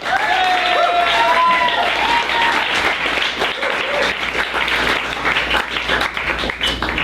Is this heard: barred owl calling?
no